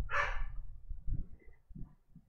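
A single dog bark rings out near the start, followed by softer low grunts or whimpers, fairly quiet and close, from one of several dogs reacting to thunder during a storm.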